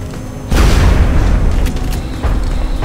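Gunfire from a rapid fire shot in XCOM: Enemy Unknown, a burst of booming game shots starting about half a second in and rolling on as a dense, loud blast with a later second thump.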